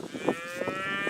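Cattle mooing from a red and black beef herd of cows with red Angus calves at an auction mart, a few close, drawn-out low moos in quick succession with no talk.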